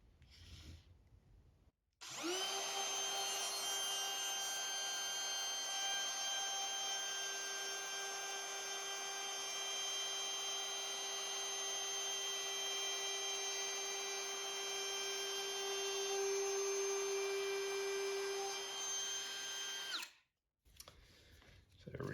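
DeWalt 20V cordless router running an edge treatment along wood, a steady high whine held for about eighteen seconds with a faint cutting hiss underneath, switching on and off abruptly, moderately loud and close.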